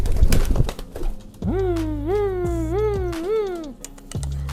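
A male pigeon about nine years old cooing close by, a rising and falling throaty call repeated several times in a row over a low background hum.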